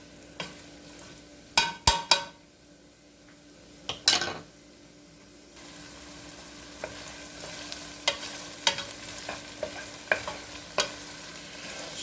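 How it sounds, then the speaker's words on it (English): Chicken pot pie filling stirred in a pan from scratch: a few sharp scrapes and clinks of a utensil against the pan up front, then a steady faint sizzle with light, irregular stirring taps, no talking. "Give it a stirring and allow it to just cook for a couple of minutes."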